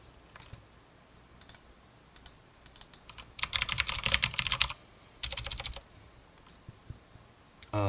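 Computer keyboard typing during work on an ER diagram, scattered single key taps, then two dense bursts of rapid keystrokes, close and clear.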